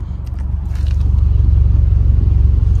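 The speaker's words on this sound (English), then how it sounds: "So I like about the HKS exhaust, it's really deep and it's really nice" Deep, low rumble from a car idling through an HKS aftermarket exhaust, a steady throbbing drone that swells slightly early on and then holds loud and close, with no talking.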